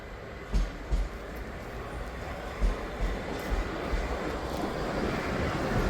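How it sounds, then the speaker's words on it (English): Train pulling into South Croydon station, a steady rumbling roar heard from the platform with a few dull thumps and clanks over it, moderately loud and without speech. "that's our train there"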